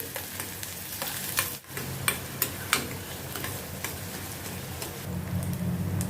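Finely chopped onions sautéing in a pan, with a steady crackling sizzle broken by sharp scrapes and taps of stirring, close and continuous with no talk.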